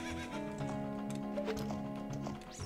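Epona, the horse in The Legend of Zelda: Ocarina of Time, gives a whinnying neigh with game-style hoof clip-clops, a synthesized in-game sound at moderate volume, heard alone without talking.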